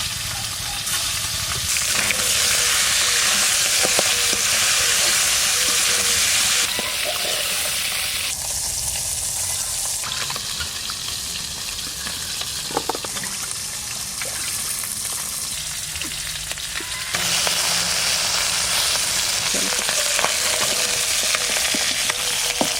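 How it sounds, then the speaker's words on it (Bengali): Tangra fish fry in hot oil in a village kitchen, a loud continuous sizzle and hiss that swells and eases in long stretches, with occasional stirring clinks, close by and without talk. "সব মাছ ভাজা হয়ে গেল"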